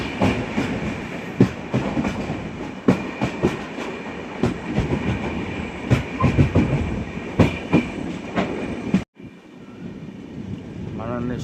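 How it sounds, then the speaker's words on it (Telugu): Pune–Kanyakumari Express rolling through Kerala in the early morning after leaving a station, heard from inside: loud, continuous rumble with repeated clickety-clack wheel hits, then a sudden drop to a quieter hum near the end. "ఇప్పుడు మన రైలు వచ్చి త్రిపునింతుర రైల్వే స్టేషన్ నుంచి స్టార్ట్ అయింది."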